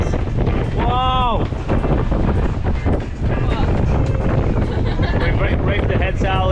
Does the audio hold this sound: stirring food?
no